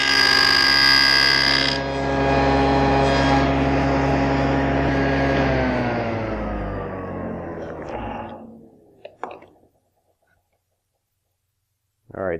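A SawStop table saw cutting box joints in a wooden board: a loud sustained blade whine and cutting roar that holds for several seconds, then winds down and fades out, with short knocks near the end.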